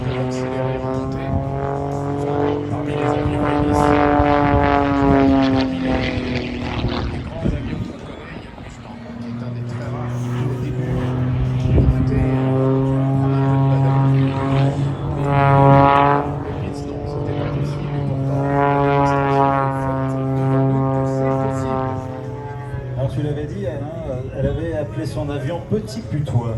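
A propeller aircraft performing at the Ferté-Alais air show, its engine drone rising and falling in pitch as it passes and climbs, loud and sustained, with music underneath and an announcer speaking over it.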